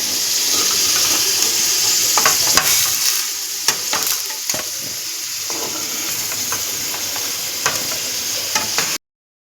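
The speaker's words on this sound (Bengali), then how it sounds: "এবার ওই তেলের মধ্যেই গোটা জিরে ও একটি তেজপাতা দিয়ে দিলাম" Whole cumin seeds and a bay leaf dropped into hot oil left over from frying potatoes, a loud, continuous sizzle and hiss with occasional stirring clicks, cutting off abruptly at the end.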